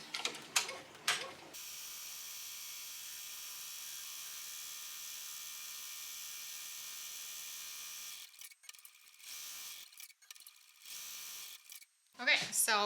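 An EM1010 embroidery machine stitches the tack-down line of an appliqué in one continuous, fast mechanical whir lasting several seconds, with brief speech before it and faint rustling and talk after.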